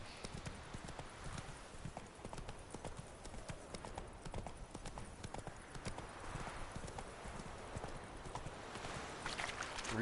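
Steady horse hooves clip-clopping at a walk, the in-game horse Roach from The Witcher 3: Wild Hunt, moderately faint under an ambient outdoor game soundscape.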